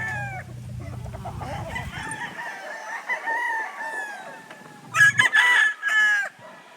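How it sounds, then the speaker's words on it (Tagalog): A rooster crows nearby, then more crowing and clucking follow from several birds, with a brief low rumble at the start. "Gwapong manok."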